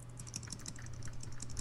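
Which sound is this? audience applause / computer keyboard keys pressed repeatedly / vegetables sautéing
computer keyboard keys pressed repeatedly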